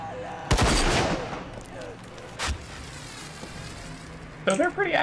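A player's gun fires in a video game: a loud burst of shots at the start, a single sharp report midway and a flurry of rapid shots at the end, with someone talking over it.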